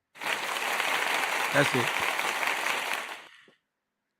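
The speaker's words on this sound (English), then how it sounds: "Applause." Applause and cheering from a crowd fill the room for about three seconds, loud and steady, with a brief spoken remark heard over it before the clapping stops abruptly.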